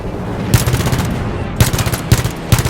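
Rapid automatic gunfire in Halo 5 Guardians, loud close bursts of fast rattling shots starting and stopping several times in short volleys.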